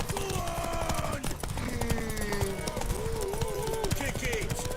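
Horse hooves clatter in a fast, steady galloping rhythm in The Witcher 3 during a race, under loud shouting voices and a musical score.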